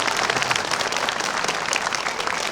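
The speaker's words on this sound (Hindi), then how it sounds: "एक बार जोरदार तालियां।" Staff and students at a school in hilly Uttarakhand break into loud, sustained applause, a thick continuous patter of many hands clapping with no voices over it.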